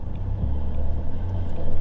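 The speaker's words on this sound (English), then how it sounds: "Again, a bit more wheel spin, that's interesting" A Mitsubishi Triton spins its wheels on mud in a car park. A steady low engine rumble swells slightly under faint scrabbling, close and continuous, with no talking.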